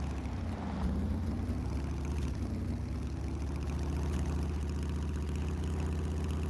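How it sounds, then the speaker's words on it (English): Cruiser motorcycle engine in the Scum video game, a soft, steady low rumble running continuously at a moderate, even level with no talk over it. "The cruiser's engine sound is a lot softer."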